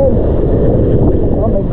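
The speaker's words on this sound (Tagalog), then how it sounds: "At lumalakas po yung hangin." Strong wind roars steadily into the microphone during a trip through landslide and flood conditions, a loud, continuous low buffeting with no breaks.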